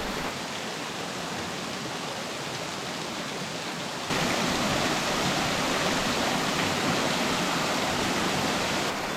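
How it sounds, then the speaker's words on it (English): Mossy waterfalls in the Patuna Chasm gorge pour in a steady, broadband rushing roar that swells louder partway through, with no voices. "there's these lovely waterfalls, mossy waterfalls"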